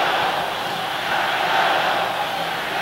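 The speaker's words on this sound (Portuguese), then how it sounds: "E a torcida do Atlético comemora o campeonato do primeiro turno da Copa União." Atlético Mineiro supporters at the stadium in 1987 celebrate winning the first round of the Copa União against Fluminense, making a broad, continuous crowd roar that stays loud and even throughout.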